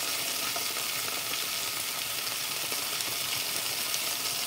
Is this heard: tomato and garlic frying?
yes